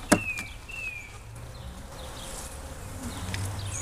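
Honeybees swarm and buzz around open frames during an inspection of an 18-frame long hive, a dense continuous drone close by with individual bees whining past, and no talking.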